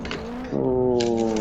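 A four-door Nissan R32 accelerates into a handbrake drift entry, its engine note rising into a loud, sustained harmonic whine, close by with no talking.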